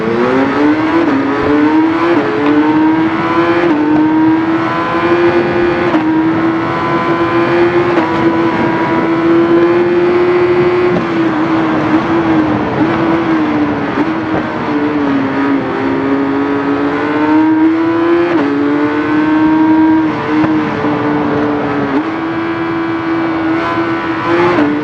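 The engine of a 2006 Kawasaki Z1000 motorcycle in the RIDE racing game runs as a loud, steady, buzzing drone for the whole stretch. Its pitch rises and dips slightly as the revs change, and no one speaks over it.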